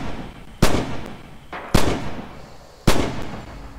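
Artillery shells land in the Red Orchestra 2 video game on the Spartanovka map, three sharp booming impacts about a second apart, each trailing off into rumbling decay.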